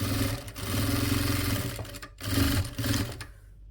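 Home sewing machine stitching four layers of fabric for a doormat made from old T-shirts: a continuous rapid whirring run, a brief pause, a second burst, then the motor stops near the end.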